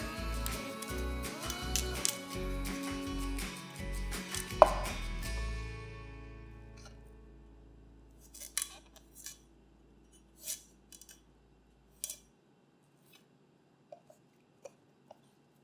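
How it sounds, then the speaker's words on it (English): Knife slicing broccoli into small florets: after music fades out, about eight sharp, crisp cuts land one by one with irregular gaps, close and clear against near silence. "cut the broccoli up into small florets"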